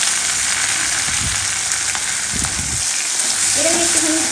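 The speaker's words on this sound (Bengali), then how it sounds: "এটা একটুখানি ফ্রাই করবো" Tomatoes frying in a pan with browned onions for a dhaba-style egg tadka, a steady close sizzle with a few soft stirring thumps partway through.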